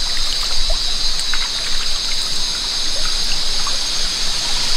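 Cold river water from Gunung Jerai flows and trickles steadily nearby, a continuous bright rushing with small splashes and no voices.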